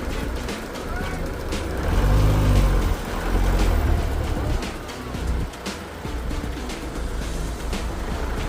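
A Ford Focus, just repaired after a no-start fault, runs with a low engine rumble that swells and eases while out on a test drive, with road noise and voices talking over it.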